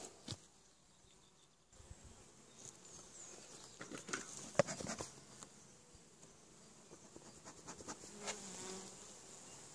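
Honeybees in a strong hive just opened by lifting the cover, making a steady, close, dense buzz with scattered crackles and taps of frames and insects moving.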